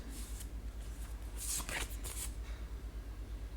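Cards are shuffled in quick riffling bursts over a steady low hum, with soft rustling and flicking in between.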